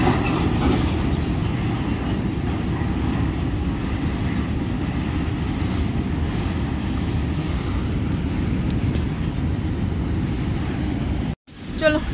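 A train, likely a freight train, rolls along a railway line nearby, a steady low rumble that holds for several seconds before a brief break near the end.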